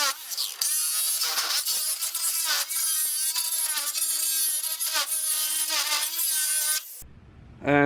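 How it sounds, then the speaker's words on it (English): A hacksaw cutting through a BMW hood to make a vent opening, giving a steady, close rasping of rapid back-and-forth strokes with no talk, cut off abruptly at the end. "I try to use the hacksaw to just like cut everything out."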